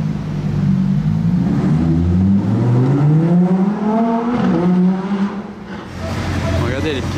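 A McLaren GT sports car engine revs and climbs through rising pitch sweeps, loud and nearby, then eases off and picks up again at the end, with street crowd noise underneath.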